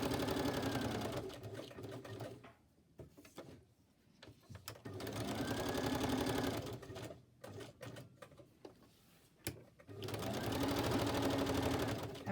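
A sewing machine stitches around a piece of paper journal ephemera in three bursts of steady rapid whirring, broken by short pauses filled with faint handling clicks.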